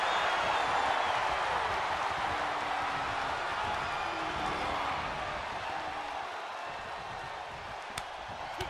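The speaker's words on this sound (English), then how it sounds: "With every move you make, you hear this capacity crowd following you on that journey" A capacity arena crowd in WWE 2K22 during a John Cena vs Rey Mysterio iron man match, a broad steady roar of cheering and clapping that holds level and fades slightly toward the end.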